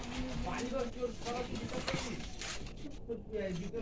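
Pigeons in a loft coo in soft, repeated throaty phrases close by, overlapping one another, with a person's voice faintly underneath.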